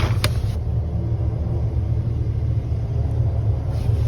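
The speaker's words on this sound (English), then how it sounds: "Now I hear really fast driving." A car drives fast somewhere close by at a campsite, heard as a continuous low engine rumble and road roar with no voices.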